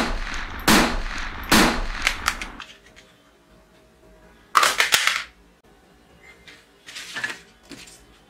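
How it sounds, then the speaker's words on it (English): A small, colorful toy pistol fires in bursts of rapid, sharp cracks, with two clusters of close, loud shots and quieter scattered clicks between them. "shooting toy pistol"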